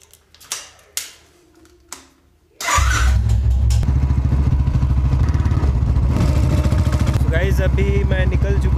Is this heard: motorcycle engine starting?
yes